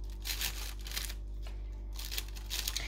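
Scissors snip through a plastic bag being trimmed into a homemade cup lid, several short crinkly cutting bursts over a low steady hum, with no talking.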